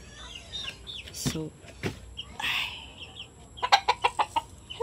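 Chickens cluck in a coop at morning feeding time, with scattered squawks and a quick run of rhythmic clucks close by, while a person talks softly among them.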